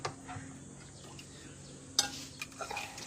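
Dishes and cutlery clinking while being washed by hand in a home kitchen, soft scattered clatter with a sharper knock near the middle and a few louder clinks toward the end.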